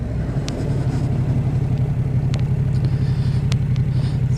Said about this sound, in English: The pipes sound nice. Not too loud, not too quiet.